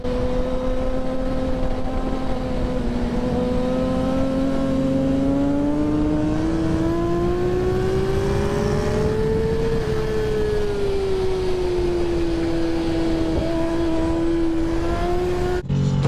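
A Yamaha R6 sport motorcycle screams around a racetrack during group riding, its high-revving engine climbing and easing through gear changes in a long, loud, continuous whine.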